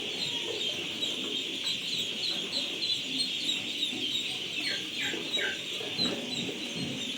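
A flock of ducks on a duck farm keeps up a faint, continuous chatter of calls, with a few sharper cries standing out near the end.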